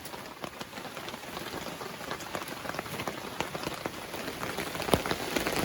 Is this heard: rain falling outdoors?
yes